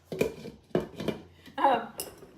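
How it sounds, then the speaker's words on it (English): A metal lid clanks onto a pot of chicken and dumplings on the stove, a few short clattering knocks spread across two seconds, close and fairly sharp in a quiet kitchen. "I'm going to put my lid on and let this simmer for 15 minutes"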